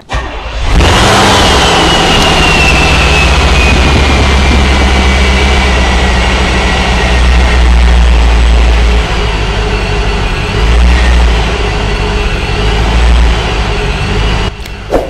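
A supercharged Corvette engine fires up with a sudden loud start and settles into a steady, heavy, close-up roar that holds for the whole stretch, with no talking.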